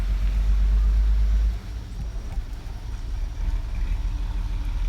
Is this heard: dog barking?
no